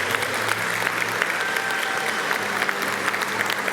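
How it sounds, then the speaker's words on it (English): Sustained audience applause fills a graduation ceremony hall at CÉGEP Heritage College, a steady dense clapping from a large crowd lasting several seconds with no talk over it. "Give her a round of applause, please."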